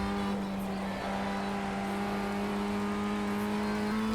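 Race car engine in the iRacing sim holding a steady high drone on track, a constant near whine with little change in pitch, alone without voices.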